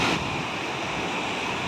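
Ocean surf at Westbrook Beach, Durban, rolls in as a steady, close broadband wash with a touch of wind noise and no voices.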